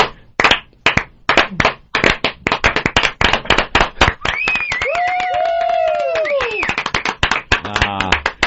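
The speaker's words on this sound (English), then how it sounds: "Slow clap." Sharp hand claps ring out one after another in a slow clap on a radio talk show, loud and close, with a voice speaking partway through.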